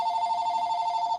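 A mobile phone ringing, one steady electronic tone held for about a second at moderate loudness before cutting off abruptly.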